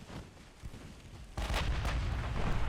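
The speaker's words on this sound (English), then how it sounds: "That was an awful shot with the mains." Warship main battery guns fire in the naval combat game Ultimate Admiral Dreadnoughts, a muffled distant boom that swells into a sustained rumbling roar of heavy gunfire.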